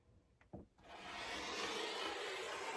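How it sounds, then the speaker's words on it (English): A rotary cutter runs along an acrylic ruler to trim the edges of a quilt. A couple of light taps come first, then a steady close rasping scrape of the blade through fabric. "So I'm just gonna grab my rotary cutter and my acrylic ruler, line it up on the edge here,"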